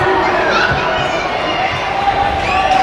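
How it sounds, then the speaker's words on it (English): A big crowd at a youth Mite hockey game in an indoor arena gives off a continuous, loud roar of overlapping chatter and shouts with no breaks. "We got a big crowd out here, folks."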